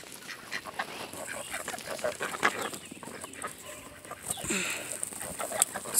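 Ducks quack and fowl cluck in scattered bursts close by outdoors, with a dog moving about among them and a brief voice.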